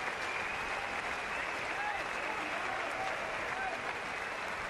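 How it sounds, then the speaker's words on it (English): A boxing arena crowd applauds after the Callum Smith vs Christopher Rebrasse fight, a dense, continuous roar of clapping and cheering heard from a distance with a commentator talking over it. "Applause is for both men."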